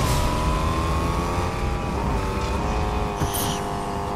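A car engine in Fortnite drives steadily with a constant, loud hum and slight rises in revs, ending with a brief higher squeal.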